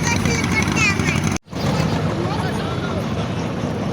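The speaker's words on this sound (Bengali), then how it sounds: "আমরা যেমন নৌকাটা ঘুরতেছি, মনে হচ্ছে আমরা গ্রামের বাড়িতে ঘুরছি।" A boat ride on open water, heard from on board as a steady droning rush of engine, wind and water. The sound drops out briefly, then returns, with voices mixed in.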